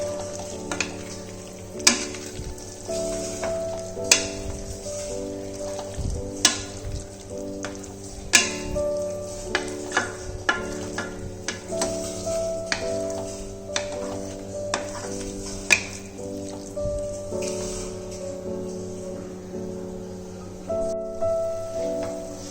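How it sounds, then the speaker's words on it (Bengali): Fried potatoes stir-fried with prawns and spices for a raw jackfruit and prawn curry, with a steady sizzle under repeated scraping and clacking strokes of a spatula against the pan and a constant background hum. "আলুটা দিয়ে ভালো করে মশলার সাথে কষিয়ে নিতে হবে।"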